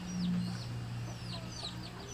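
Chickens kept inside a house during flooding cluck softly in the distance over a steady low hum, with scattered short calls and chirps.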